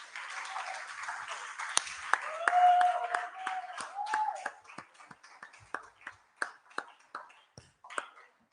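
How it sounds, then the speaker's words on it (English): Audience at a live YouTube creators festival in Accra applauding its tutors, a brief swell of clapping that thins into scattered separate claps, with some talk mixed in. "if we are giving them a round of applause, we do it very well"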